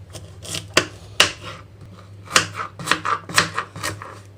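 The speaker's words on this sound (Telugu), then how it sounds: "ఈ బీట్రూట్ను కూడా ఇలాగే కట్ చేస్తున్నాను" Knife chopping peeled beetroot into small pieces on a board, a series of sharp close taps in an irregular rhythm, some clustered quickly together, with no voice.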